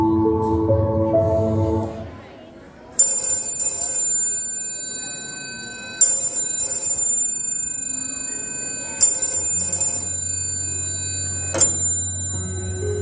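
A telephone rings in repeated bright electronic trills spaced about three seconds apart. An earlier tone fades out before the first ring, and no one speaks.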